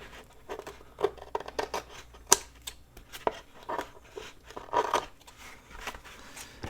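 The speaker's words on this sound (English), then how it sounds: "I've got a little piece right here that I need to trim" Scissors snip through shipping-envelope material while trimming a journal cover, a run of close, crisp cuts and crinkles in an irregular rhythm with brief pauses, no voices.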